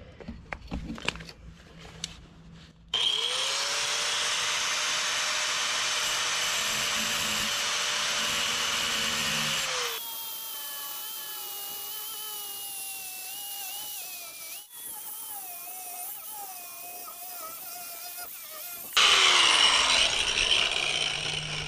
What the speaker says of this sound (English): get this grinding wheel off, put a cutting disc on it